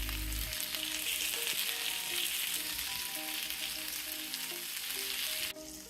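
Chopped onions sauté and brown in a pan over medium-low heat, giving a steady, dense sizzle close up that stays even throughout. It drops off abruptly just before the end.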